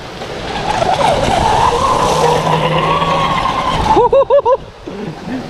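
A Black Jack 42 RC car power-slides on a surface with a steady, loud tyre-scrub and motor whine, followed near the end by a few sharp rising-and-falling whine bursts as the throttle is blipped.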